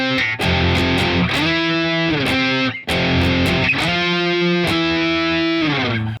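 Distorted electric guitar playing the octave verse riff of a song, loud, close and sustained, with sliding octave notes in two repeated phrases and a brief break between them, no voice.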